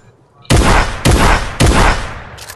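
A drum gun fires in a video game squad match, three heavy, booming bursts of rapid fire, each about half a second long, loud and close with brief gaps between them.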